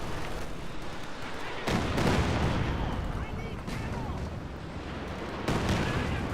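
Katyusha rocket artillery fires in Company of Heroes 2 during a 1v1 match, with repeated dull booms and rumbling bursts at intervals over steady battle noise.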